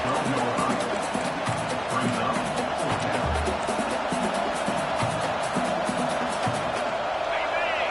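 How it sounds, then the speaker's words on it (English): Stadium crowd noise from the NCAA 25 college football video game, a steady loud roar of a crowd rumbling continuously under a play-by-play commentator's voice. "this crowd is making it miserable on this offense"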